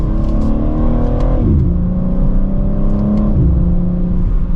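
A 2023 BMW M4 Competition Convertible xDrive engine drops to second gear, its loud, steady drone falling then catching at a higher note with a blip, heard from inside the car with no talk.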